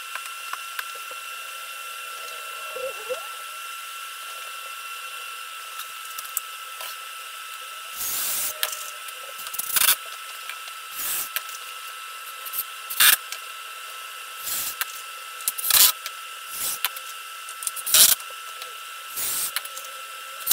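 All-purpose construction screws are driven into a wooden fireplace mantel in short, repeated bursts, with sharp intermittent mechanical buzzes and clicks standing out over a quiet steady hum.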